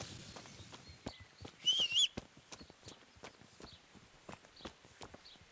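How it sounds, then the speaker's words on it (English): Horse hooves in the medieval game Kingdom Come: Deliverance, a run of clip-clop steps drawing closer at moderate level, with a brief louder burst midway and no talk over it. "Let's call our horse. Just so he's outside the bathhouse."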